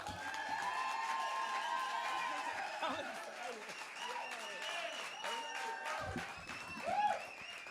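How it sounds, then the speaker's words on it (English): An audience claps and cheers as a young female performer is brought out at a show, with lively clapping and whoops mixed with people talking and a little laughter throughout. "Get your hands together for Yulani Dawson Colyar."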